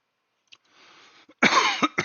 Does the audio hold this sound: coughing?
yes